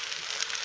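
Corn and tomato paste hitting a hot pan while cooking chocolate-flavoured school-style macaroni, giving a steady, close, broadband sizzle that holds evenly for under a second with no voices.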